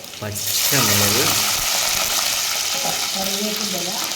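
Loud sizzling and crackling of dried red chillies and green chillies frying in hot oil, with a brief stirring scrape and faint voices under the hiss.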